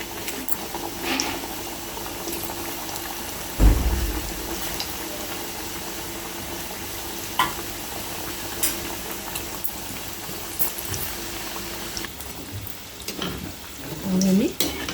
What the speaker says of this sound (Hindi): इस तरह से हमें स्लो फ्लेम पे ही फ्राई कर लेना चाहिए इन आलू समोसों को।